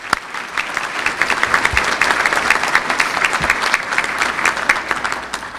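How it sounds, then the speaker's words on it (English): Audience applause for the head table at a State of the City event, a crowd clapping steadily with distinct individual claps standing out, lasting several seconds without talk. "Give this head table a round of applause."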